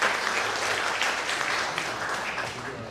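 An audience at a regional housing association project briefing claps for an introduced speaker, a steady crowd applause that holds evenly and fades slightly toward the end.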